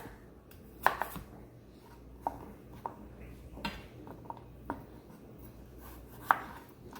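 A knife trims sweet potatoes on a cutting board, producing a string of close, crisp taps and cuts at an irregular pace over quiet background hiss.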